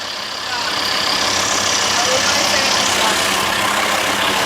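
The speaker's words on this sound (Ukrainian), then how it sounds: "Ну як тобі відчуття, як мотор робить? Любиш такий звук?" A van engine idles steadily and close by, a constant rumbling hum with a faint rise early on.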